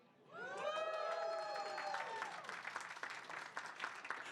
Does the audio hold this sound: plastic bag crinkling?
no